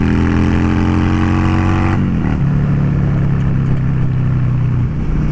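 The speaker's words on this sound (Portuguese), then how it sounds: "É uma motoca que responde bem. Anda bem, curva bem." A Honda Shadow 600 custom motorcycle rides along with a loud, steady engine drone; the pitch drops sharply around two seconds in as the rider shifts or eases off, then settles into a lower, even rumble.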